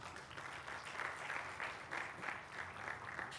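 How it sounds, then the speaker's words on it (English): Quiet, distant clapping from a symposium audience, swelling in soft rhythmic bursts roughly every half second, with no voices. "let's appreciate them with a big round of applause"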